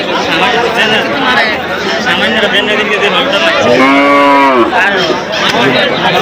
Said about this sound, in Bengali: এখানে এই সুলতানপুর বাজারে বড় বড় গরু উঠেছে